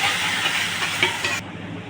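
Sauces poured over fried onion and capsicum in a hot pan hiss loudly as they are stirred, with a steady sizzle and soft scraping that cuts off abruptly.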